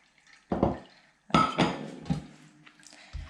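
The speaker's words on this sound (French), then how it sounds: "je vais drainer le liquide qu'il y a dans les carottes" Liquid drained from a pot of cooked carrots, with metal pot clanks and lid knocks followed by a pouring, splashing stream of broth, close up and without talk.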